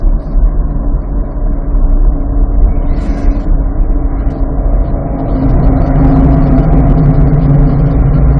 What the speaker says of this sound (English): Nice engine sounds.